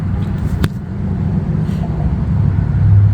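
Near and steady, an Audi A5 car engine idles during a brake service, giving a low, continuous hum with a brief metallic click and no talk.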